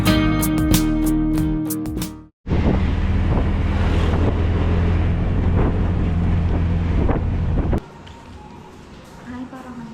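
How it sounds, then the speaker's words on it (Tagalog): Strong wind gusts on Siquijor island, a loud continuous roar buffeting the microphone from start to end with one brief drop near the start and a softer stretch toward the close, with speech passing over it. "Ang lakas ng hangin."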